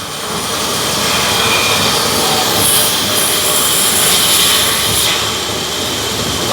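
A machine saw cuts through Nilambur teak wood in a furniture workshop, a loud, continuous droning whine that holds steady throughout with slight rises in pitch, close by and with no voices.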